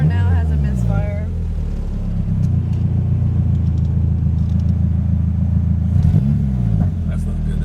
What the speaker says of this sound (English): Car now has a misfire.